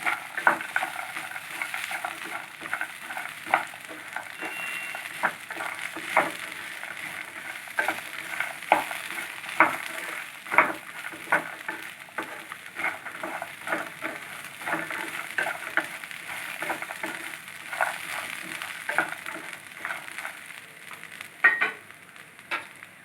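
Ginger garlic paste frying in a hot pan while a spoon stirs it, with a steady close sizzle and repeated scraping strokes for a Telugu-style phool makhana curry, without any talking.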